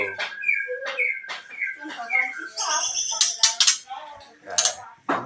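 Bright, clear chirps and whistled phrases of a murai (white-rumped shama) songbird, loud and close, repeating in varied bursts with short pauses between calls.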